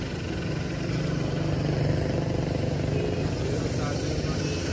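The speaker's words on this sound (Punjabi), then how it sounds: "ਹੁਣ ਦੂਆ ਟਰੈਕਟਰ ਚਲਾ ਕੇ ਦੇਖਣ ਲੱਗੇ ਹੈ" A John Deere tractor engine, a 12 model with its fuel running low, drones loudly and steadily throughout, a continuous low rumble with no break.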